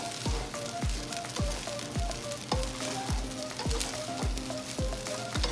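Shrimp fried rice sizzles steadily in a hot pan, with a dense frying hiss broken by regular scraping strokes of a spatula stirring roughly every half second, close and moderately loud.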